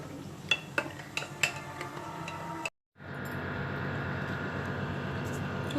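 Metal utensils clink against a cup or glass while children's milk is mixed in a home kitchen: a few sharp, faint taps, a brief silence, then a steady low background hum.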